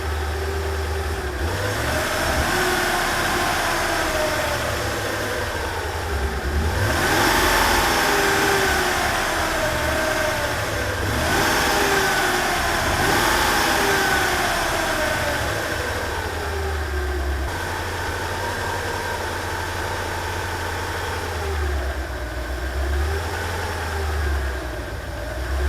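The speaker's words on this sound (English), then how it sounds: "But that's a sound of an air-cooled V8." A Tatra 613's air-cooled V8 idles with a gruff, truck-like rumble and rises in several rev blips, heard steadily and fairly close with no voices.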